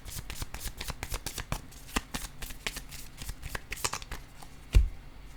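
Playing cards are shuffled in a rapid run of crisp riffling flicks, close and fairly quiet, ending with a single card slapped down onto a surface.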